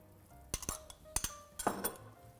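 A small spoon skimming foam off simmering chicken broth into a small bowl, producing a few light clinks and taps of metal on crockery, close and quiet, with no talk.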